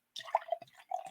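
Bell's Christmas Ale, a scotch ale, poured from a bottle into a glass, making a short burst of close gurgling and splashing that fades out after about a second.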